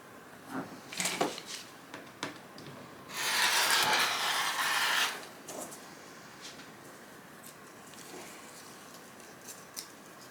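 Paper foundation-piecing pattern trimmed along a dotted line for a quilt block, with short scissor snips and paper rustles and one sustained scraping rub in the middle, fairly close and without talk.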